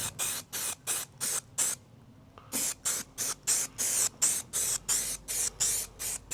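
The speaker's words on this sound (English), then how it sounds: "I'm just gonna mask up actually where I'm gonna spray up to first." An aerosol can sprays primer onto a VW Crafter van body in short rhythmic hissing bursts, about a dozen close, sharp sprays separated by brief gaps, with a longer pause early on.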